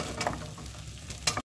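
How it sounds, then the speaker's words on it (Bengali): Green peas hit spiced oil with ginger-garlic paste in a karai for a cabbage curry, giving a steady close sizzle with brief stirring bursts near the start and end. "এবারে এর মধ্যে দিয়ে দেব কড়াইশুঁটি।"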